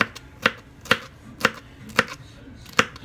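A knife chops through ready-made seafood slices for a pasta salad on a board, six sharp, evenly spaced cuts at about half-second intervals, close and clear with no talking.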